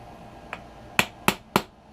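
Small screws are tapped into an RC basher car, a faint light tap followed by three sharp, evenly spaced close clicks in quick succession.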